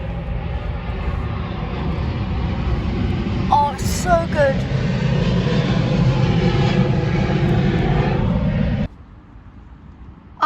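An airplane passes at Heathrow airport with a loud, steady roar of jet engines that holds for several seconds before cutting off abruptly. Several people speak briefly over the noise.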